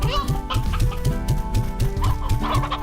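Hens in the video game Slime Rancher cluck in a steady, repeated rhythm, close and fairly loud, with game music or ambience running underneath.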